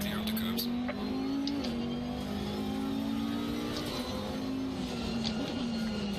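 Race car engine in Assetto Corsa Competizione driving a lap, a loud steady drone whose pitch shifts slightly with gear changes, with a voice talking in the background.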